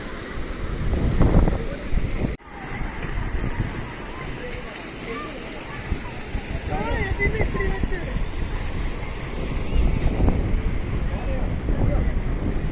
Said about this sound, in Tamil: வாட்டர் ஃபால்ஸு சூப்பராக இருக்குது.